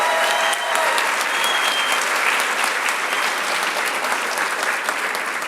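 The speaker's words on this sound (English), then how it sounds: "Can we have a round of applause for your Med Council?" Medical school audience at a Match Day ceremony applauding the Med Council, a sustained, even wash of clapping from a large crowd, loud and continuous with no speech.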